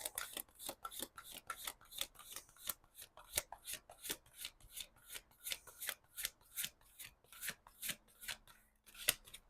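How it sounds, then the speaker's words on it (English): A deck of tarot cards is shuffled in steady, quick riffling bursts, close and quiet, repeating rhythmically with no talking. "I'm going to just do a quick shuffle again"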